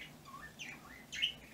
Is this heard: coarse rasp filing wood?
no